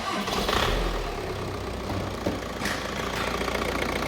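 A 2.0 BKD engine in a Seat Leon cranks and fires on its first start after a snapped cambelt was replaced, then settles into a rough, knocking idle at moderate volume.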